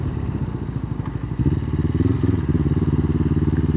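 Suzuki GS500 motorcycle being ridden, a steady, rough engine drone with rhythmic pulsing that grows louder and more forceful partway through as the throttle opens, with no talk over it.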